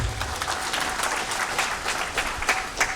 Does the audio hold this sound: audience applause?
yes